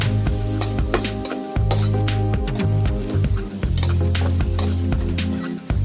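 Mashed potato is stirred in a sizzling frying pan, with scraping strokes over steady frying hiss and a constant low humming tone throughout.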